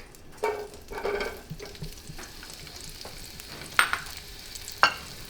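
Shallot and garlic sizzle steadily in hot oil in a pan over a gas flame, close and continuous, with a few sharp scrapes and clinks from stirring.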